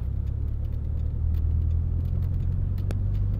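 A Mitsubishi Eclipse engine misfiring while driving, heard as a steady low rumble with uneven pulsing and a few brief stutters.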